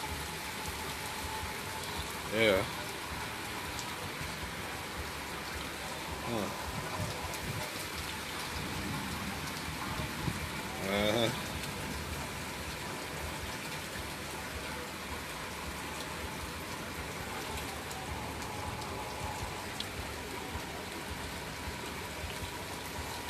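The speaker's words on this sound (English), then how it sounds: "It's raining hard even more." Heavy rain pouring steadily outdoors, a constant dense hiss of drops on surfaces with a few louder bursts, while a person briefly murmurs agreement.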